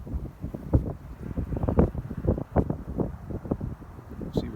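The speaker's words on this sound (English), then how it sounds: "My God, the wind is howling." Winter wind buffets an unshielded microphone outdoors near an airport runway, producing loud, uneven low rumbling gusts and thumps that swell and fade continuously with no voices.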